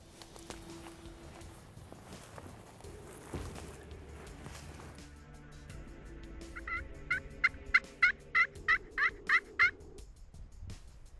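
Wild turkeys gobble repeatedly in a Nebraska field, a run of loud, rapid bursts in quick succession after quieter rustling through brush in the opening seconds.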